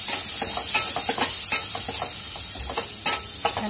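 Onion and tomato fry in oil for an egg curry, with a constant bright sizzle under a string of quick scraping stirs and light utensil taps against the pan, close up and without talk.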